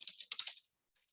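Typing on a computer keyboard gives a quick run of about eight crisp, close key clicks. A short pause follows, then a few faint taps.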